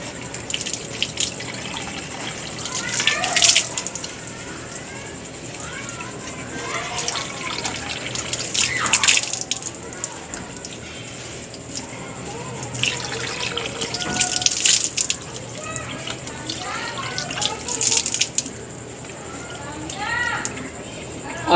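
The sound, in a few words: water running from tap while washing face for wudu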